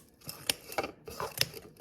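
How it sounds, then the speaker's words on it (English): Snipping or chopping of material into fine pieces for a jumping spider sling enclosure, a few sharp close clicks and cuts at an irregular pace, with no one talking. "So let me chop it up some more."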